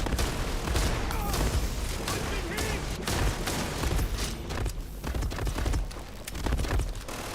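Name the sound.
shotgun firing in the video game Starfield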